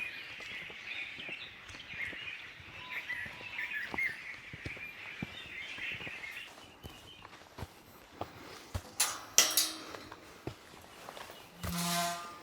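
Birds chirp and sing beside a hiking trail in Pia Valley while footsteps crunch along underneath, with the bird chorus fading midway and a few sharp, tonal calls and a honk-like toot breaking in toward the end.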